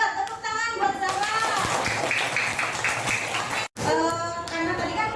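A class of children claps together for a classmate in a classroom, rhythmic group clapping with children's voices mixed in and a brief break near the end.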